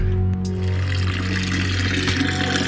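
Water pours steadily to fill a container outdoors during a hiking bivouac, a continuous close, loud gush and splash with no talking.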